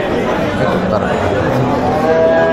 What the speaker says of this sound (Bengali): এটা দুধের গাভী আর কি